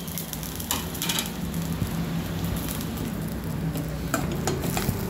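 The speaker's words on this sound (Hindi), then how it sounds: "मैं थोड़ा सा इसको सॉटे कर लूँगी।" Onions and green chilies sauté in hot oil with a steady, close sizzle and frying crackle, joined by occasional stirring scrapes, with no voices over it.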